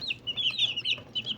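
Large black hens, Australorp and other big breeds kept alongside small local chickens, clucking in a short run of repeated calls at moderate distance with no talking.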